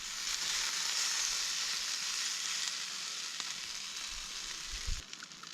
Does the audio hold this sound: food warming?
yes